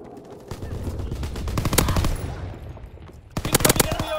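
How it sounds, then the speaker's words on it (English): Anti-aircraft guns firing in the World War II shooter Call of Duty: WWII, loud rapid bursts of cracking shots that build and thin out, then a fresh sharp volley near the end. "Anti-aircraft bursts commenced."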